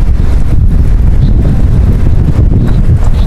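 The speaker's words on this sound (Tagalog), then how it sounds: "Lakas pa ng hangin." Strong wind buffets the microphone of a cyclist's intercom setup outdoors, a loud, steady low rumble with gusty swells throughout and no clear voices.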